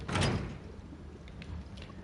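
A fuel trailer unhitching from a truck in SnowRunner gives a single heavy mechanical clunk at the start, followed by a low rumbling background with faint scattered clicks.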